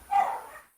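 A dog gives a single short bark close to the microphone in a home setting. It is brief and sharp against an otherwise quiet background.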